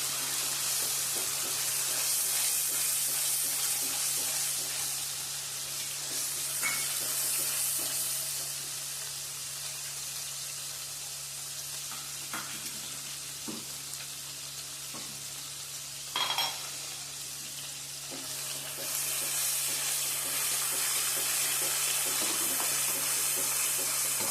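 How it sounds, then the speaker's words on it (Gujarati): Onion paste with ginger and chili sautéing in oil for a Surti eggplant stalk curry, a steady close sizzle and hiss running throughout, with occasional faint scrapes of stirring and no talking. "આદુ મરચાંની સાથે આપણે ડુંગળીની પેસ્ટ નાખી દેવાની આ બધાને સરસથી કસાવી દેવાની છે"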